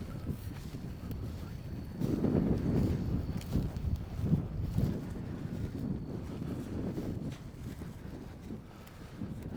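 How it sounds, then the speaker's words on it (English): Steady wind buffets the microphone outdoors, a low rumbling roar that swells and eases without pause. "it's real windy today"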